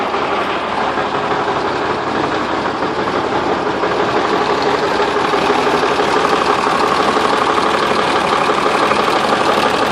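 A 1957 REO F-20 truck engine runs steadily after its first start-up in 20 years, a loud, continuous rough idle with a knocking rumble and no talk.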